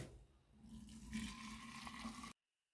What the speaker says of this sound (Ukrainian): І заливаємо це все кип'яточком.